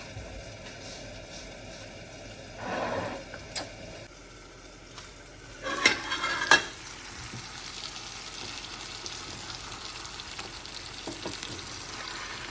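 Desi ghee frying in a pan gives a soft, steady sizzle throughout, with a few louder bursts of stirring or clatter near the start and middle; no one talks.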